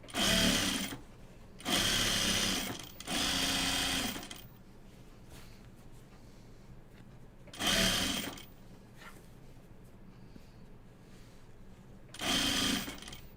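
A sewing machine stitches an anorak in five short, quiet bursts of rapid mechanical whirring, separated by pauses of near silence, with no talking.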